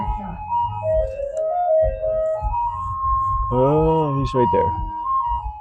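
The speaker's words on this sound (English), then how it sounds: "Oh, here's the ice cream truck." Tinny ice cream truck jingle drifting in from the street outside, its tune of wavering melodic tones playing steadily under casual talk nearby, with a brief burst of louder harmonic tones partway through.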